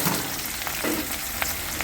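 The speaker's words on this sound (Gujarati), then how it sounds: "જો મિત્રો અમારા બટાકા ફ્રાય થાય છે." Potatoes fry in a pan for an egg curry with a dense, steady sizzle close by, with a few soft stirring scrapes and no talk.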